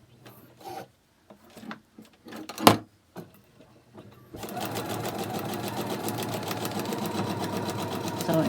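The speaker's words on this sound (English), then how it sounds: "now I'm going to go sew that line between 2 and 3" A sewing machine runs a continuous, steady, close stitching line across a quilted butterfly charm block after a few handling clicks and rustles.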